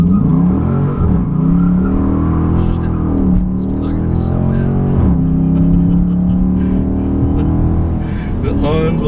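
A deep, throaty 5.7L V8 in a 2017 Dodge Charger Daytona with active exhaust rumbles loudly nearby, revving up and down in repeated surges with burbling exhaust and a few faint ticks.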